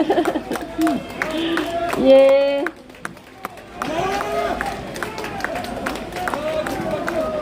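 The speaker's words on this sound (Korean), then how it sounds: "계속해서 박수 부탁드립니다" A crowd at a political rally claps and cheers in a dense, continuous patter, mixed with shouted voices and chatter, dropping to a short lull midway before the clapping surges back.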